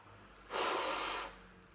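A burst of air blown through the breathable mesh upper of an Adidas Adizero Boston 8 running shoe, a single soft breathy hiss lasting under a second, close and fairly loud, with no talk.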